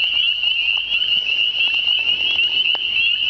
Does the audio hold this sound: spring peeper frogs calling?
yes